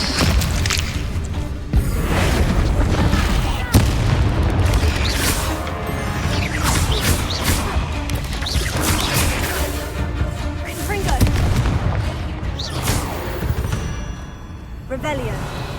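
Confringo blasting spells in Hogwarts Legacy boom and crash repeatedly in a loud, dense barrage with whooshes between impacts, while voices talk over the combat.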